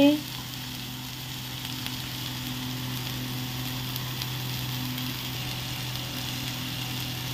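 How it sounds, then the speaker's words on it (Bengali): A steady, close frying sizzle from sweet corn, mixed vegetables and green moong dal stirred together in a pan, holding an even hiss throughout with a low hum beneath. "এখন মিশিয়ে দিব সবগুলোকে"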